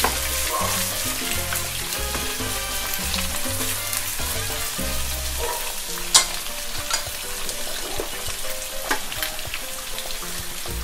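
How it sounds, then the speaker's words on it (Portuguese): Diced leg of lamb browning in a pan gives a steady, close sizzle with crackles and pops, broken early on by scraping and stirring, and no one speaks. "Também já vou colocar o pernil cortado em cubinhos. Vou dar uma dourada em tudo."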